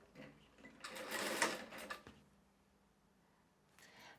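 A sewing machine stitches cotton bias binding folded over a fabric edge in a short, close, steady whirring run of a second or so, then falls quiet apart from a faint later rustle.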